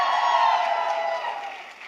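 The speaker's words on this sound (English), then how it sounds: "Let's give a round of applause." A crowd cheers and applauds at a New York political rally, a continuous wash of clapping and whoops that slowly fades over a couple of seconds.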